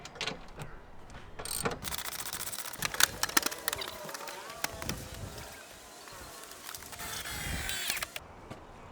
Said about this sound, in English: 13 millimeter socket. We'll take the back of this sofa off nice and quick.